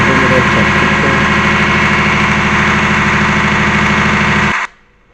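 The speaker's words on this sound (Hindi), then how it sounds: "ये जनरेटर मेरा चल चुका है।" Perkins 1103 diesel engine driving a generator runs loud and steady at a constant idle with a low, throbbing knock, then cuts off abruptly near the end, leaving quiet.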